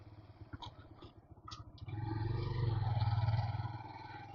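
A motorcycle engine labors up a steep paved concrete road toward a hilltop temple during a monsoon ride in Jharkhand, a low pulsing throb that swells into a steady, louder drone midway.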